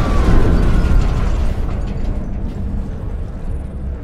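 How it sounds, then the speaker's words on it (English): An explosion from a fluid overload in the video game Mars: War Logs, a loud close boom with a burst of crackling debris that decays into a rumbling tail over a few seconds. "Only a fluid overload could make that kind of noise."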